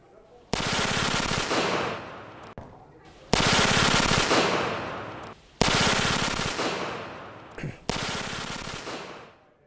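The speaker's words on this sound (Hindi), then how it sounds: "एंटी एयरक्राफ्ट गन से मार गिराए गए रशियन ड्रोन्स" Anti-aircraft gun fire against Russian drones in the Russia–Ukraine war: four long, loud bursts of rapid automatic shots, each trailing off into echo, separated by short pauses.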